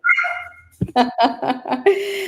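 Household dogs bark close by indoors: a string of loud, rapid barks with a short whine or voice-like sound at the start.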